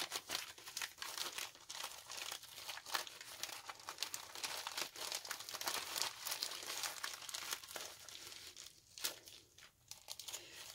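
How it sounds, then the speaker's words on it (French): Close crinkling and rustling of plastic packaging, continuous and busy, with sharper crackles scattered throughout and no voices. "emballée dans une pochette avec du papier bulle en plus pour bien protéger"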